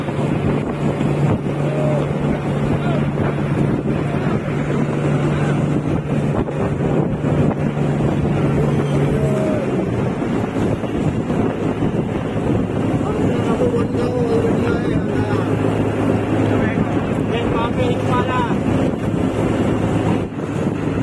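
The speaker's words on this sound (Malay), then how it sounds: "cuacanya sudah berangin" Strong wind buffets the microphone aboard an Aceh purse-seine fishing boat at sea, a constant loud roar mixed with engine drone and splashing water throughout, with voices faintly present underneath.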